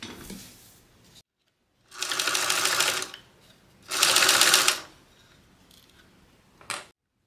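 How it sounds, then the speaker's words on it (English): A sewing machine top-stitches around the edge of a handmade bag in two steady bursts of rapid stitching, with quiet pauses and a short final burst; no talking. "Let's go and add a top stitch around the entire thing."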